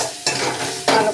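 Onions and spice powders (salt, turmeric, ground cumin, ground coriander and hot chilli powder) sizzle in a pan while being stirred for a kakra pui shak, with steady frying hiss broken by scraping stirs near the start and end.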